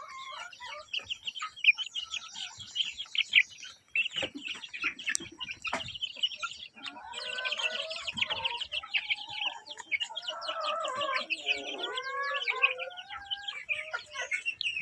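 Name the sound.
free-range chickens clucking while being fed fermented leaves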